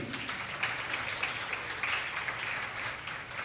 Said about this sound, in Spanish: un aplauso pues para Amy